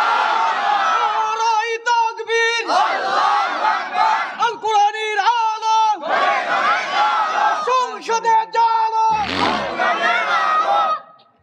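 A large crowd at a religious sermon gathering chants takbir, answering a leading voice in loud, rhythmic waves of shouted call and response, close and full, with a lone speaker between the bursts.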